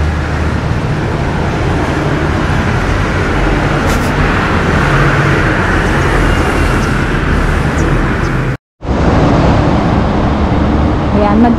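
Steady, loud road traffic rolls past near a station, a continuous wash of car and engine noise with a brief drop-out near the end before the roar resumes.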